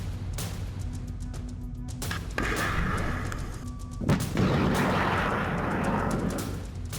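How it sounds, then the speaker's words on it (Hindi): Rocket launcher bombardment in Mariupol heard in war news footage: heavy booming blasts and rumbling bursts over a constant roar, with a sharp loud impact around the middle. "सबसे भीषण हमला मारियोपोल में हुआ, जहां रूस ने रॉकेट लॉन्चर से जबरदस्त बमबारी की"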